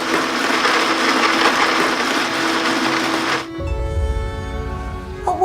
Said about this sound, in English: Activating blender.